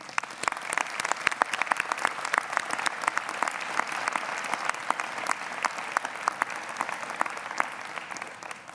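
A convocation audience at a graduation ceremony claps for the team that planned the event, giving crisp, dense applause that stays lively and even throughout.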